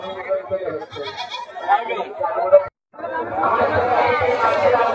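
A ram goat bleats amid chattering people at a busy cattle market, its calls mixed into near, loud overlapping talk with a brief pause before the crowd noise resumes.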